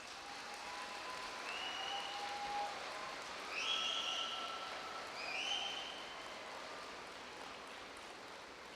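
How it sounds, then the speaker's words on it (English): Graduating high school class standing to applaud families, teachers and friends at a graduation ceremony: broad, even clapping from a large crowd, fairly distant, rising and falling slightly, with faint whistles or cheers. "Please rise and give them a round of applause."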